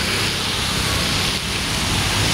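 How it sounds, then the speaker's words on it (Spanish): Heavy rain pours in a dense, steady hiss with no breaks, loud and close, like a downpour during an electrical storm in Ibagué, Colombia. "hay mucha tormenta eléctrica, mucha lluvia acá en Ibagué"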